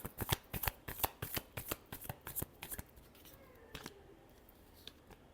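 Tarot cards being shuffled by hand, a rapid series of crisp riffling snaps close to the microphone that thins out into a few scattered flicks before quiet.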